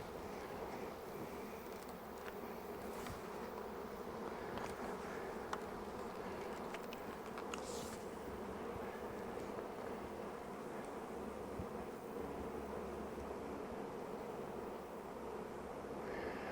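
A swarm of honey bees buzzes steadily around a hive box outdoors, a continuous, faint droning hum with no talking.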